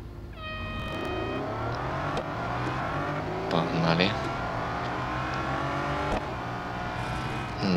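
Race car engines in the Real Racing video game roar at the start of a one-on-one race with a Bugatti Bolide, a loud, rising, steady engine tone with harmonic sweeps as speed builds, continuing throughout.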